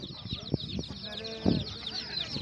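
Chickens and chicks cluck and peep together at an outdoor poultry market in Sungurlu, Çorum, a busy overlapping chorus punctuated by a few louder squawks, with a faint voice in the background.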